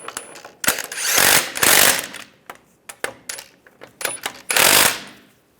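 Differential bracket bolts being tightened on a 2007-2013 Chevrolet Silverado, with several loud bursts of rapid mechanical rattling from a power tool, separated by short pauses and light metallic clicks.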